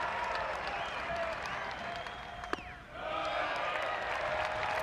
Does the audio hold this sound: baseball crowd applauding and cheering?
yes